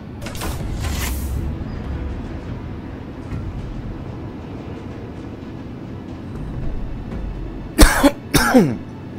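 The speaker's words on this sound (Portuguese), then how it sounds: "ainda tô com essa tosse porque eu tô gravando praticamente no mesmo dia" Two bursts of coughing, one at the start and a harsher double cough near the end, close and loud over a low rumbling background.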